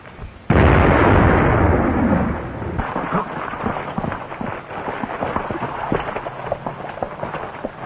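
A sudden loud explosion booms like blasting in a mine tunnel, its roar sustained for a couple of seconds before decaying into scattered rumbling and crackling debris.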